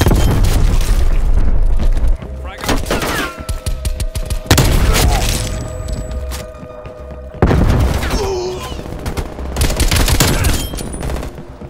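Frag grenade explosions and gunfire in a Domination match of Call of Duty: Black Ops Cold War, with three heavy booming blasts followed by rattling shots and dense battle noise, a faint voice briefly under the din.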